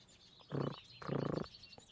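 Hummingbird wings make a soft whirring flutter in two short bursts, the second longer, close by against quiet garden surroundings.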